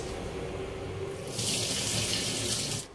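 Running tap water splashes over rice being washed for Malabar chicken biryani, a steady stream that grows louder and brighter midway before dropping off near the end, with no talking.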